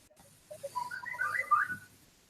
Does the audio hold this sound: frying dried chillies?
no